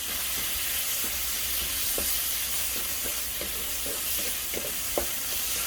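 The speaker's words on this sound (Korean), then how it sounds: "불이 세게 달궈져 있으면 쭈꾸미를 넣어서 볶아주세요" Webfoot octopus stir-fries in a very hot pan with garlic, giving a steady loud sizzle broken by repeated scrapes and clinks of a spatula stirring.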